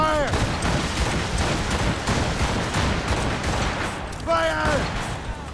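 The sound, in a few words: volley of gunfire in Assassin's Creed Rogue video game cutscene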